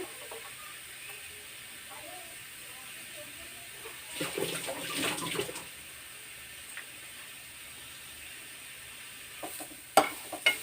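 Beetroot fries in a pan with a soft, steady sizzle and occasional stirring scrapes, fairly quiet, with a brief louder burst of frying midway and a couple of sharp taps near the end.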